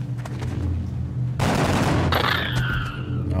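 Gunfire in XCOM: Enemy Within: a low, steady background drone, then a sudden loud burst of shots that sounds close and lasts under a second, followed by a fading electronic whine.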